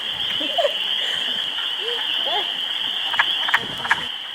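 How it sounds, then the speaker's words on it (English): A wood frog calls in spring wetland, short clucking croaks repeating at close range over a steady high-pitched chorus of other frogs, with a few sharp clicks late on. "such as Whitney, Maureen, and Amanda, this was the first time they had ever seen a wood frog calling"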